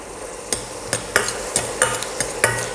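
A few ginger pieces frying in a pan for chow chow chutney sizzle quietly, while a utensil stirs and knocks against the pan in a steady series of short, sharp scrapes.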